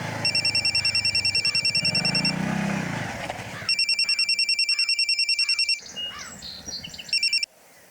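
A telephone rings in bursts of rapid electronic trills, pausing between rings, over low background rumble and a faint voice in a crime drama scene.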